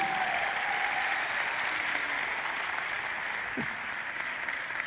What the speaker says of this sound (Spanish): ¡Un aplauso para Angie!